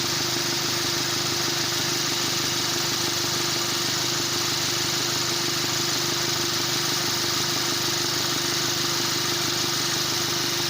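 In a Ford Territory, the air conditioning compressor runs alongside the engine in a steady, unbroken mechanical drone with a constant hum and hiss, loud and close, with no voices throughout.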